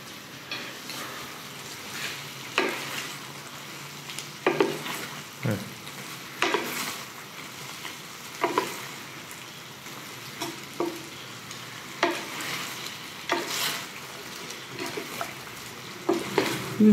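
Prawns being stirred and tossed in a hot frying pan for Cantonese sweet and sour prawns, a soft steady sizzle broken by repeated scraping and clattering of a utensil against the pan.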